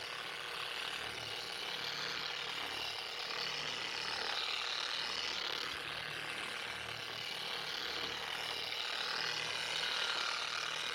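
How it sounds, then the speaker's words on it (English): A power buffer spreads wax over an oxidized fiberglass RV exterior with a steady, even whirring drone that runs unbroken throughout at moderate loudness. "Take it up top here and we'll get to buffing."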